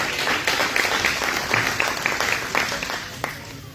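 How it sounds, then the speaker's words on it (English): Gathering at a community club giving a round of hand claps after a prayer, dense clapping with some individual claps standing out, moderately close and continuous with no voice over it. "Give the Lord a hand clap."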